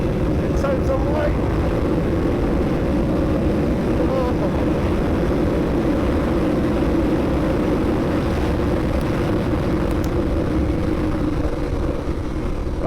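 A KTM 1390 Super Duke R motorcycle pulls hard in third gear, its engine a loud, steady roar with dense low rumble and wind rush sustained throughout.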